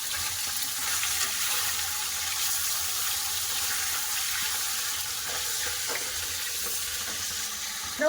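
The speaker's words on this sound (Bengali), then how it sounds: "উল্টে পাল্টে দুপাশ ভালো করে ভেজে নেব" Fish, chela, frying in hot oil in a pan and being turned, a steady close sizzle with faint scraping and clinks throughout, no voices.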